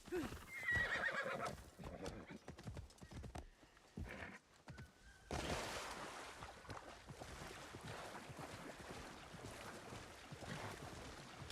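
A horse in Assassin's Creed Shadows whinnies loudly near the start, then its hooves clip-clop steadily under rushing wind and ambient game sound.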